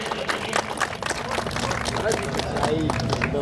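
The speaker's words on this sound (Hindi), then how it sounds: "एक बार जोरदार ताली हो जाए फिर से नरेश जी के लिए" Audience applause for poet Naresh at an open-air poetry gathering during a religious fire ritual in Ahirauli, Buxar, sustained rapid clapping from a crowd with faint voices mixed in.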